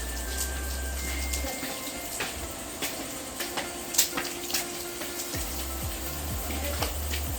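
Water runs steadily from a shower or tap, a continuous hiss with occasional splashes, fairly close and moderately quiet.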